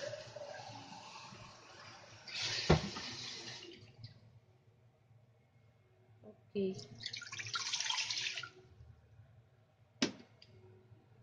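Tap water runs into a steamer pot being readied to steam savory egg custard, in two separate bursts of rushing flow with quiet pauses between them and a short spoken word near the end.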